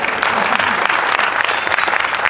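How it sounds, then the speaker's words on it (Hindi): A crowd at a Hindi poetry recital claps steadily and loudly for the whole stretch, a dense unbroken wash of applause. "एक बार ताली ढंग से बजा।"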